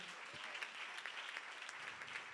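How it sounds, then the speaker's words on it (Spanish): A church congregation applauds after a prayer, filling the space with dense, continuous clapping at an even level from start to finish, faint and somewhat distant. "Un aplauso para ellos, hermanos."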